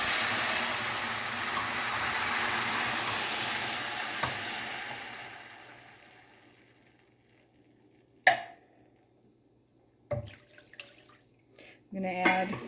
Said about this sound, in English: and it's going to sizzle.